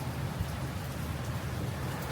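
Sudden hailstorm mixed with rain in Calgary, Canada, a steady, dense hiss of drops and pellets striking surfaces and parked cars, continuous and even with a low rumble beneath.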